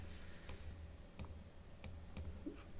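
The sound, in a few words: pressing keyboard arrow keys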